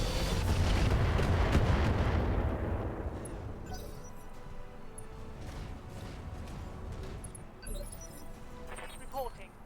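Heavy mech weapons fire in the BattleTech Roguetech game: a loud, rumbling barrage for the first few seconds that fades into a lingering low roar, with scattered softer impacts and a brief voice-like snippet near the end.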